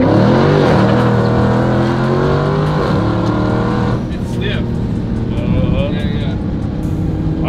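A 2021 Dodge Challenger Hellcat Redeye Super Stock V8 revs loudly up and down as the gas pedal is played from inside the car, and people talk over the steady engine roar.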